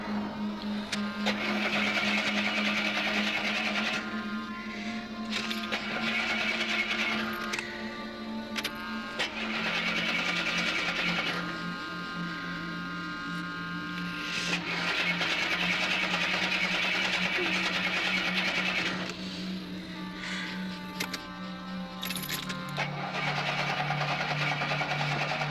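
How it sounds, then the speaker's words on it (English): An engine with carburetor trouble runs continuously for about twenty-five seconds, with a steady drone and a rough, uneven note that stumbles and shifts pitch at intervals. It plays fairly loud, with no talk over it. "Sounds like you got carburetor trouble."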